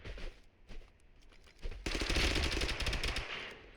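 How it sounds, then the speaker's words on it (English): Gunfire in the video game TABG, a musket being fired, with a burst of rapid crackling shots after a quieter opening, moderately loud within the game mix. "I think that's a musket"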